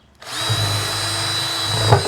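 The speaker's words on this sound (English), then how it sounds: "I'm just using a 5/8 paddle bit on my Ryobi drill, and I'm gonna put a hole right in the center here for drainage." A Ryobi cordless drill fitted with a 5/8 paddle bit spins up and bores a drainage hole through the centre of a planter, a loud steady whine close by with a slight load change near the end.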